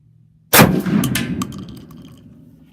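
A single sharp, loud blast from a Benelli M2 20 gauge shotgun with an Indian Creek choke, firing TSS number 9 shot outdoors while patterning, then a long fading echo with a faint metallic ring in the tail.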